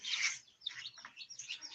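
Pet birds chirp and tweet near a feed bowl, a quick run of high, bright calls close by and moderately loud, with no voices.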